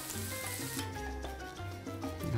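Garlic and shallots frying in oil for a chicken and shrimp noodle soup, giving a steady close sizzle with faint clinks and stirring, alone without talk.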